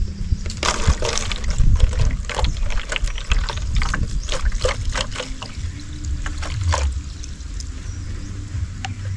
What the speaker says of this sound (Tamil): இப்போ நம்ம அதுக்குள்ளே தண்ணியை ஊற்றி நம்ம எப்படி ஒர்க் ஆகுது அப்படிங்கிற பார்க்க போகிறோம்.